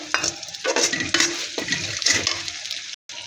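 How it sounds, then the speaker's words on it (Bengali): Onion, green chilli, turmeric, chilli powder, salt and coriander powder being stirred and fried in a pan, with close, steady scraping strokes and a constant sizzle, then a brief gap of silence near the end. "মশলাটা খুব ভালো করে কষিয়ে নেব।"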